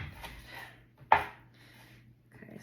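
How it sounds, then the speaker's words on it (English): A knife chops pesto ingredients on a board, giving one sharp close chop amid faint soft rustling and scraping, with no talking. "I'm gonna keep chopping and just see how much I've got"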